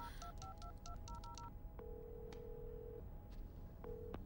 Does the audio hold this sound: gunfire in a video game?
no